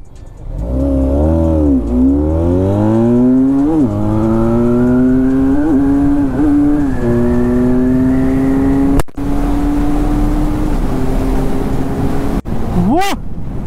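A Benelli motorcycle engine revs loudly and close, climbing and falling through several throttle blips before holding a steady high rev, with two brief cut-offs near the end and one last sharp rev.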